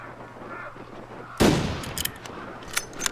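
A single loud gunshot fires in the survival video game The Long Dark, with a sharp broadband crack and a brief decaying tail, followed by a few fainter clicks and knocks; no voices.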